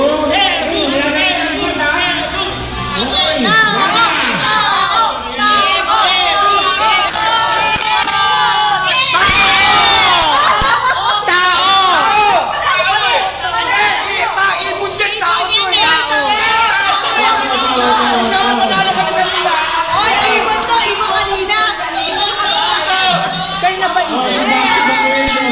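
A crowd at a school reunion Christmas party shouts, yells and cheers loudly and without a break, with overlapping voices and chatter throughout.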